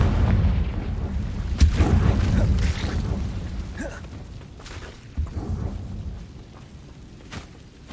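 Booming blasts from the Confringo spell in the game Hogwarts Legacy, a rumbling low-heavy explosion with debris crackle and a few sharp cracks fading out, loud and close.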